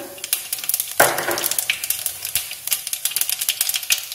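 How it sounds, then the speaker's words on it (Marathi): Mustard seeds splutter in hot oil with dense, rapid, sharp pops and crackles close by. A louder burst of sizzling comes at the start, and steady popping follows with no voices. "मोहरी आपली तडतडली आहे"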